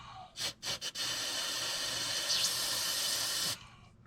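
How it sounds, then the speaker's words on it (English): Aerosol spray blasts cleaner into an injector on a 12V71 Detroit Diesel in a 1973 Peterbilt 352 cabover, three short bursts followed by one long steady hiss lasting several seconds, close and loud. "We'll spray out our injector same as before"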